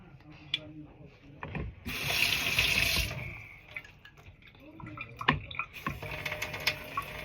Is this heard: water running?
yes